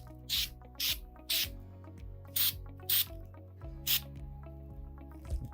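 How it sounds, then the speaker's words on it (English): Textured spray paint hissing from an aerosol can onto Lego pieces from about two feet away, in six short, sharp bursts spaced irregularly over a faint steady background hum. "always test spray it before you spray it in your vehicles"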